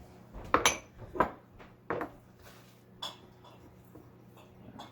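Peppers being placed into glass canning jars, a few sharp clinks and knocks of glass spaced irregularly over soft background hum, close and moderately quiet, no talk.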